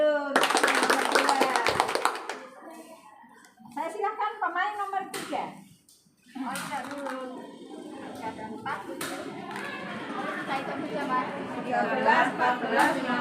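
Audience applause breaks out at a PKBN simulation event in Gumpang, Kartasura, with a loud burst of clapping at the start that fades, followed by crowd chatter and voices.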